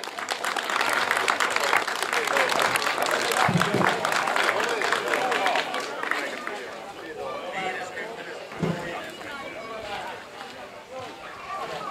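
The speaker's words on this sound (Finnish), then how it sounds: "Noin, valtavat aplodit vielä." A crowd at the finish of the 2015 Kalkkisten kymppi race applauds in a steady, sustained wash of clapping that slowly fades, with a commentator talking over it.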